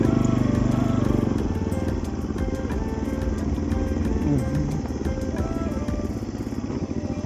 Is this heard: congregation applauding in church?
no